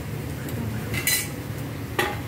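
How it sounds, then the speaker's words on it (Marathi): Vegetables stirred with a metal spoon in a cooking pan, giving a couple of brief scraping clinks over a continuous low background hiss, with no talking. "त्याला नीट हलवूया."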